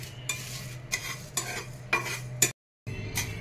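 Urad dal and spices dry-roasting in a pan for Goan uddamethi, stirred in a regular rhythm of scraping strokes over a soft sizzle and low hum, close, with a brief silent gap before it resumes.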